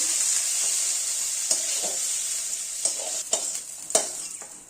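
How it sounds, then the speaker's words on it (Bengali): Paneer pieces frying lightly in hot oil, a loud continuous sizzle and hiss broken by several sharp clicks and scrapes of a spatula stirring the pan. "এখন পনিরগুলোকেও ভেজে নিচ্ছি, খুব হালকা করেই ভেজে নেব"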